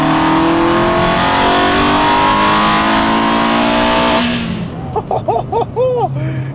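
A small car engine on a budget runabout revs hard and loud while accelerating, the pitch climbing steadily for about four seconds before cutting off into a few short, sharp blips.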